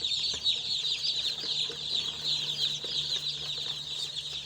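Broiler chickens brought out one after another during brooding, a dense, steady chorus of high peeping and clucking that continues close by without pause, with no talk over it.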